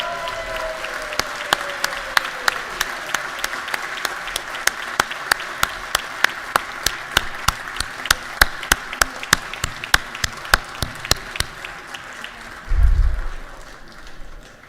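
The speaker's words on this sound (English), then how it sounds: "Gary Richardson, let's give him a round of applause." Applause in a state House chamber for a newly sworn-in representative: distinct, crisp individual claps in a quick steady rhythm, fairly close, with a dull thump near the end.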